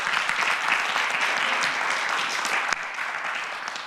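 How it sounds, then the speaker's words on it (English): An audience claps at an outreach weekend gathering, with dense applause that fades gradually, and no talk over it. "Give her a round of applause."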